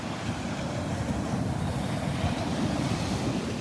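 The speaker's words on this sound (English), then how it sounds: "These waves are awesome. Some big ones rolling in here." Big ocean waves roll in and break on a Gulf of Mexico beach at Barefoot Beach Preserve in Florida, a steady loud wash of surf with wind buffeting the microphone throughout.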